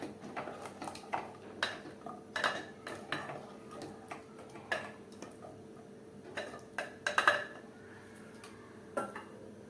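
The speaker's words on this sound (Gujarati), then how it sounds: "હવે આપણે મિક્સ કરીએ ફરીથી બધું સરસ ભળી જાય" A spoon scraping and clinking against a metal pressure cooker while stirring a drumstick vegetable curry with added water; sharp intermittent metallic taps and scrapes at an irregular rhythm, close and fairly quiet, with no talking.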